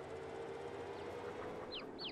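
Chickens in Farming Simulator 22, faint soft clucking and a few short chirpy calls near the end, heard over a low, steady hum.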